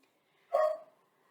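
A dog gives a single short bark, sharp and moderately loud, somewhat distant indoors, with silence around it.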